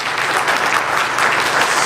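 An audience claps loudly and steadily at a coaching event as people come up on stage, a dense even wash of applause from a close crowd with no speech over it.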